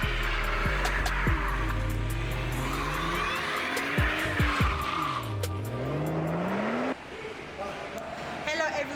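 A German car spins its wheels, and loud tire squeals sweep up and down in pitch over a roaring engine. Voices are heard around the burnout.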